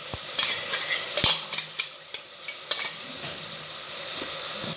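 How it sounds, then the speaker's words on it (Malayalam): Ginger, garlic and green chilli paste sautés in a pan for mutton biryani, a soft sizzle broken by sharp, irregular clicks and scrapes of a spoon stirring against the metal, close and without speech. "ഇനി നമുക്കൊരു ചെറുതായിട്ട് വഴറ്റിയെടുക്കാം."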